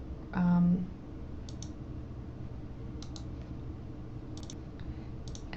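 A single sharp computer mouse click on an OK button, followed by a few faint ticks and clicks over quiet room tone.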